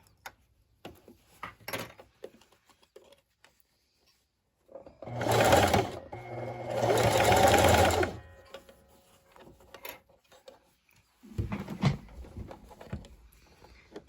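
A sewing machine zigzag-stitches a fabric face mask in two loud, close bursts of rapid mechanical stitching, a shorter one then a longer one, with a third run near the end and quiet handling sounds between.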